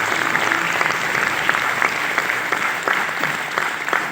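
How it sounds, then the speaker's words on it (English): An audience applauds at the Cavinkare Ability award ceremony in Chennai. Steady, dense clapping from a large crowd runs throughout, with a few louder individual claps standing out. "please keep the applause going"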